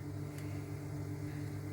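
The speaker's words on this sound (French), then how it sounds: "Je viens de mettre les pommes de terre au micro-ondes 7 minutes." A microwave oven running while cooking potatoes, giving a steady low hum and whir that stays even and continuous, faint and with no talk over it.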